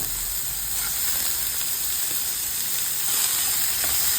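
Chopped onion sautéing in butter in a pan, with a steady, continuous sizzle and hiss, close and fairly loud, running unbroken with no voices.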